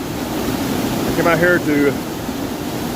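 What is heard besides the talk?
raging waterfall on a river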